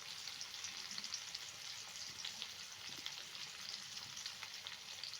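Garlic paste and chopped onion fry in white oil, giving a steady, even sizzle that crackles softly throughout. It is faint and continuous with no talk.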